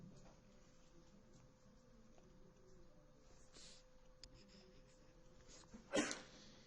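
A single short sneeze in a quiet classroom, sharp and fairly close, bursting out near the end over faint room hum and soft background shuffling.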